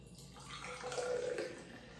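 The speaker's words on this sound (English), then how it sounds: "Let's pour this in a glass." Harpoon Dunkin' Blueberry Matcha IPA beer pours into a glass with a quiet, steady liquid trickle and gurgle that swells in the middle and eases off, with no talking.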